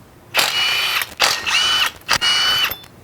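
An impact wrench pulling bent wheel adapter spacers off a Chevy, heard as three loud bursts of high-pitched whirring and rattling, each about half a second to a second long, separated by short pauses. There is no talking.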